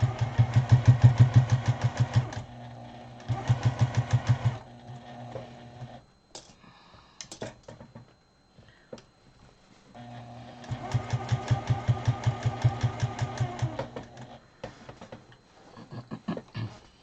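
A Juki 2010Q sewing machine stitching dust cover binding, loud rapid mechanical chatter in bursts of a few seconds, stopping between runs with quiet handling noises, then a longer stretch of sewing.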